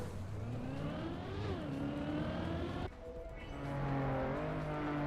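Old-style cars in the video game Trackmania, a steady engine whine rising and falling with gear shifts and a brief drop in the middle, loud and close with no talk.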